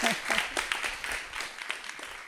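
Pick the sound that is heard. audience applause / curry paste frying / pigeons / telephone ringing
audience applause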